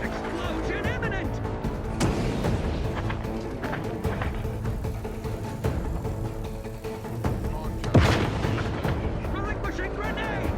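A grenade explodes in the video game The Outer Worlds 2. A sharp, loud blast near the end cuts through steady combat noise and robotic-sounding voices talking throughout.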